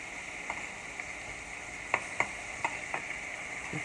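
Stuffed lobster pieces searing in a pan give a steady sizzle, broken by a few sharp taps and clicks as the pieces are flipped to brown.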